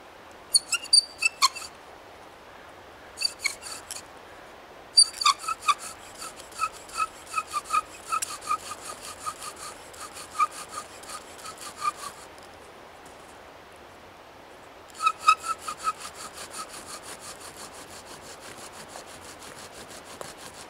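Bow drill spinning a cottonwood or cedar spindle on a wooden fireboard, rhythmic bursts of squeaky rubbing strokes in several runs separated by short pauses, close and fairly quiet with no talk.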